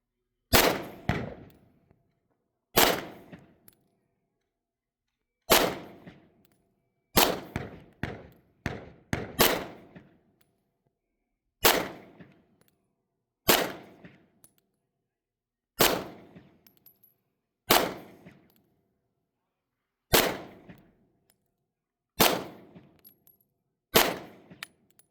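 Staccato C pistol shots ring out at a target, eleven or so sharp reports in uneven bursts, some spaced seconds apart and a quick cluster of several in a row, each with a short ringing decay.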